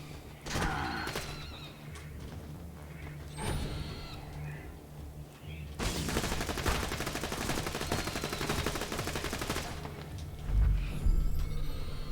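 Sustained rapid gunfire from an Infinity pistol in Borderlands 2, in bursts of shots: a short volley early, then a long continuous stretch of steady fire from about six seconds to the end, over a low game hum.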